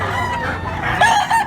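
A gamecock of a fighting bloodline in Cebu crows once, a loud, close, drawn-out cock-a-doodle-doo over faint background noise.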